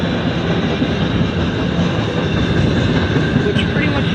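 Rail cars of a freight train rumble past close by in Chesterton, Indiana, a steady loud roll with faint wheel clicks and a brief squeal near the end of the train.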